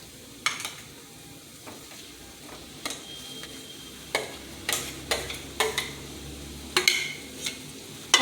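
Potatoes stirred into sizzling onions and turmeric in a hot pan for aloo paratha filling, with repeated scraping clicks of a spoon against the pan over a steady low fry, close and moderately loud.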